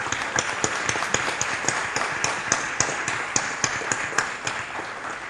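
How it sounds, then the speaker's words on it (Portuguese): Warm applause from the audience at a progressive bloggers' state gathering in Salvador, Bahia, a steady dense patter of claps with sharper individual hits, sustained and fairly even throughout. "a quem eu peço uma calorosa salva de palmas"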